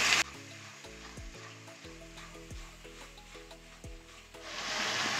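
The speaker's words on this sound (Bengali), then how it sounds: "গ্যাসটা মিডিয়ামে রেখে আমি মশলাগুলো কষিয়ে নেবো ভালো করে" Garlic paste, green chili paste and spices fry in a pan with a steady close sizzle and scraping stirs, the hiss swelling louder toward the end.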